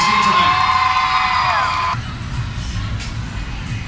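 A premiere crowd at a Hollywood film event cheers and whoops loudly, a dense wash of shouts that eases slightly but keeps going throughout.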